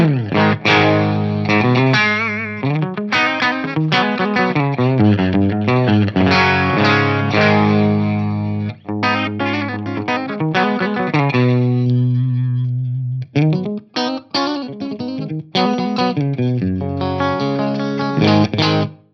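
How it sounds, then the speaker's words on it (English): Electric guitar on the bridge pickup through a Mesa Boogie JP2C amp's clean channel, played alone with a warm, full tone, chords and melodic runs ringing out with a chorus-like shimmer and a few brief pauses. "That is a mega fat clean channel. Let's hear it on the bridge pickup."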